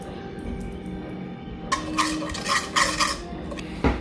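A spoon stirs a mixture of rice and cardamom in a bowl. After a quiet start come several clinks and scrapes against the bowl, clustered in the second half.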